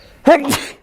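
A single sharp sneeze bursts out close up, loud and brief, heard on its own.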